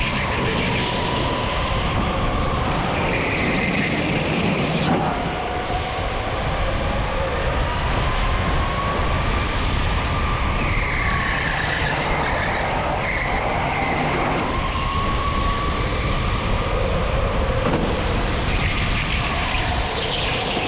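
Electric go-kart lapping the TeamSport Liverpool indoor track, a continuous loud whine that rises and falls through corners, with a steady rumble and the occasional bump throughout.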